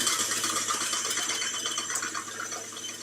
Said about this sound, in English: In the mixing bowl, I'm using the whisk attachment. I'll whisk that until I get soft peaks